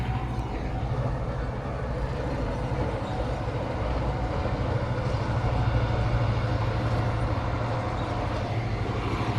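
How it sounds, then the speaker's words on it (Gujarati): A train rumbles past steadily, a continuous low rolling roar with clattering wheels, close by and loud throughout. "આ ટ્રેન નીકળી જ્યારે આપણે બ્લોગ લેતા હોય ત્યારે આ ટ્રેન નીકળે"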